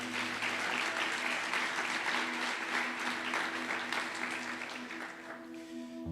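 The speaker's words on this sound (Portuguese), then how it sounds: "Aplaude o Senhor Jesus por isso" A church congregation applauds in a dense, steady wash of clapping that fades slightly toward the end, with a faint low hum underneath.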